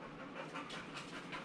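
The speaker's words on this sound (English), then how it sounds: "it's feeling a little stressed and he's panting pretty heavily, that's a stress pant" A stressed dog pants heavily, with quick, rhythmic breaths repeating steadily at close range and no talking over them.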